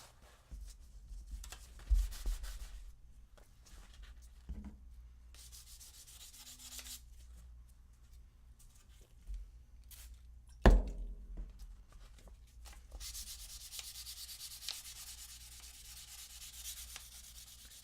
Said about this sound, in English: you can feel the difference as you're sanding